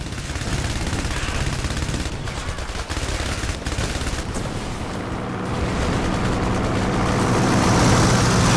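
An airstrike rolls in during the war video game Heavy Fire Red Shadow, with loud, dense bursts of gunfire and explosive crackle over the roar of a passing aircraft, swelling in intensity toward the end.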